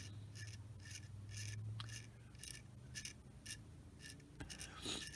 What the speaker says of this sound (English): So I'll scrape a little bit of paint off here so we get a nice